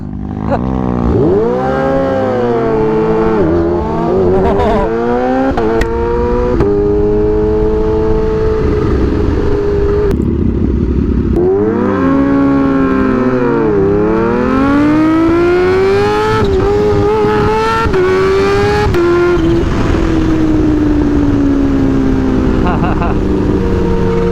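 A Kawasaki Ninja H2 motorcycle, tuned, launches hard off the line, its engine screaming up through the revs with rapid gear changes and repeated rising pulls, loud and close throughout.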